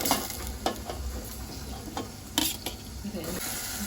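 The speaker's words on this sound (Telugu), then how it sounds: "పచ్చిమిర్చి వేసుకుని బాగా ఫ్రై చేసుకోవాలండి. రొయ్యలు ఇందులో వేసుకోవాలండి" Prawns fry in hot oil with curry leaves and chopped green chillies, sizzling steadily while a spoon stirs and scrapes the pan in short strokes.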